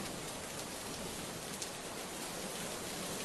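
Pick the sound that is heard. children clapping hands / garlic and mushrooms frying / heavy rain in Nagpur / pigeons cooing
heavy rain in Nagpur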